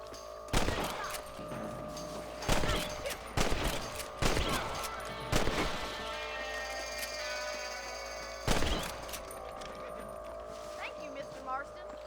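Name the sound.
rifle shots at rabbits in the video game Red Dead Redemption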